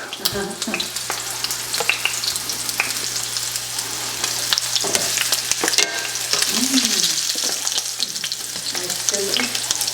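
Food sizzles and browns in a frying pan, a loud, dense crackle and spatter that runs without pause, close up and with no voices.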